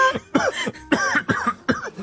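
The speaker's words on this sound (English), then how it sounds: "I am coughing uncontrollably" Harsh, repeated coughing in rapid bursts, close and loud, with a throaty rasp between fits and no talking.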